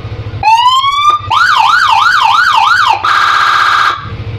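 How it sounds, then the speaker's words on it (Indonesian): Electronic siren on a police-style Bajaj Pulsar motorcycle cycles through three tones: a rising whoop, a fast warbling wail, then a steady two-tone blare, each loud and close, with engine idle between. "Sirine, tombol sirine starter nih ada 3 suara"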